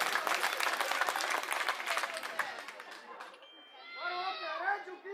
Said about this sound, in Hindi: इनके लिए ताली बजाओ एक बार जोरदार।